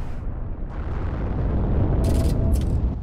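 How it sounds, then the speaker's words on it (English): A grenade blows up in the shooter game Heroes and Generals, a loud low rumbling blast that swells and lingers, with brief crackling bursts of debris near the end. "They're throwing nades!"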